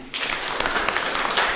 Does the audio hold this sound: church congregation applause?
yes